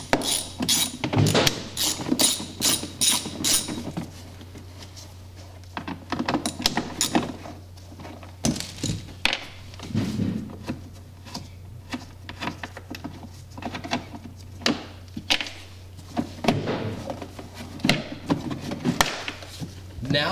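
Torx fasteners are removed from a golf cart dash panel during a front light kit install, giving scattered sharp clicks, taps and plastic rattles near the mic alongside a steady low hum, with quiet talk in places.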